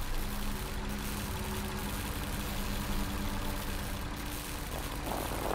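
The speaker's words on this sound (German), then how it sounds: "Dem Motorengeräusch und dem Geruch nach zu urteilen, befinden sich in diesen Hütten Dieselgeneratoren." Diesel generator engine running inside huts in the video game Lost Horizon, a steady low droning hum at constant level, heard alone.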